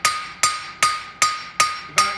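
A hammer rings sharply against hot steel while forging a bar shoe, six evenly spaced metallic strikes roughly every 0.4 seconds, each a bright clang with a short decaying ring, close and loud with no talk.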